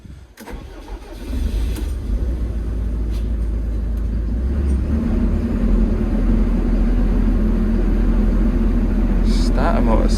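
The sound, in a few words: vehicle starter motor cranking, sticking on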